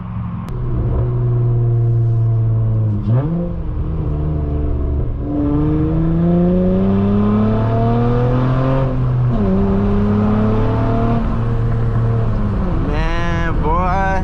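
A tuned 3.5L V6 in an 8th-generation Honda Accord revs hard while driving on a backroad, its engine note climbing through repeated gear pulls with short drops between shifts, loud and close from inside the car.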